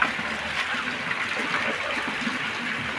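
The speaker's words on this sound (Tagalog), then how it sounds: "Si Papa Raul, sinasahod yung tubig ulan." Rainwater pours steadily into a container, a continuous splashing, gushing flow close by with no voices over it.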